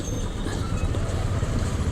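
A train rumbles along a nearby railway beside a busy market road, a steady broadband roar with rattling wheel noise at moderate distance, heard continuously without speech.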